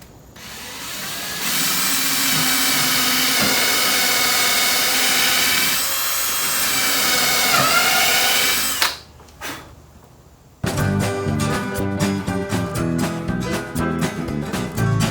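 A power drill whines loudly and steadily for several seconds drilling bolt holes for a dolly build, cuts out, then gives way to rattling, clattering tool noise.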